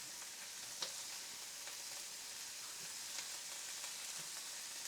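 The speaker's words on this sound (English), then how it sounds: "The meat slapping and the sizzle." Steak sizzling in a hot frying pan, a steady broadband hiss throughout with a few soft pops and crackles; close and even, no talking.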